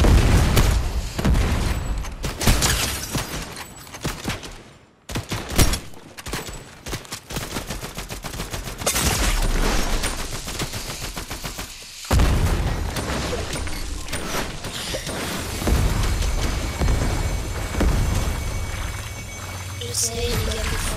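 Grenade explosions and gunfire in Fortnite, a dense run of sharp bangs, booms and rapid shots that stops briefly twice, loud and close, with players chatting over parts of it.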